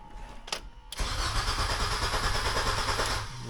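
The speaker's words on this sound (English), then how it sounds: "the car turns over like that, right? And that's even without the clutch in." A 2003 Mini Cooper engine is cranked by bridging the starter wiring without the clutch pressed, giving a brief click and then a loud, steady mechanical churning that lasts a couple of seconds and then drops back.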